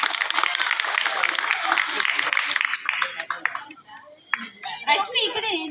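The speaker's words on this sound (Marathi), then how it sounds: "हे टाळ्या टाळ्या टाळ्या." Children at a playful Baahubali role-play gathering, a burst of scattered clapping mixed with constant child chatter, fading into sparse claps and talk.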